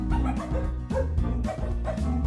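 A cartoonish dog in the video game Majotori barks in repeated yips along to a tonal music track, each bark close and clear, with brief whimpering notes between beats.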